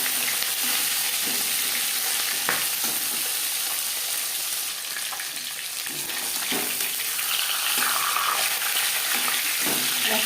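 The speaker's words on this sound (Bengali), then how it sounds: "অল্প অল্প করে মাছ ভাজলে ভাজাটা ভালো হয়।" Silver carp pieces coated in fish spice frying in hot oil in a pan, a steady, continuous crackling sizzle with occasional small pops and stirring clatter, close and fairly loud.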